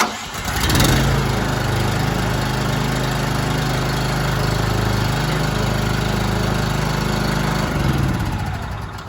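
The engine of an AlumiMAX PRO, a belt-driven machine, cranks and catches, then settles into a loud, steady running drone close by for several seconds before easing slightly at the end.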